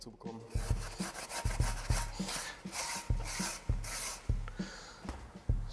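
Fine sandpaper rubs rust off the metal wheel plate of a wheel balancer, a close rhythmic scratching with about ten back-and-forth strokes and a light knock at each turn, with no voices.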